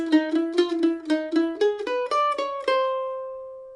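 A mandolin plays a quick Brazilian choro melodic phrase of bright, evenly paced notes, climbing in pitch and ending on a ringing sustained note, played alone.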